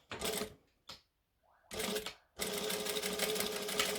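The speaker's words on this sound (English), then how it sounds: "And then I'm going to stitch it down." An embroidery sewing machine stitches in rapid mechanical bursts: a short run, a brief tap, a pause with a faint tone, then a longer steady whir of stitching.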